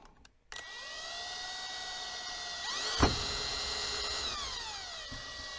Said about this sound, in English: I'm going to drill a hole back here and run the wires through into the handle